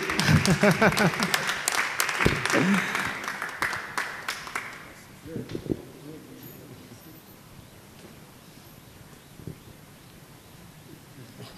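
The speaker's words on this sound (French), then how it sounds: "On va quand même acclamer pour le frère Poli." A church crowd cheers and claps for Frère Poli, loud applause in the first few seconds with voices mixed in, then fading to scattered claps and quiet murmuring.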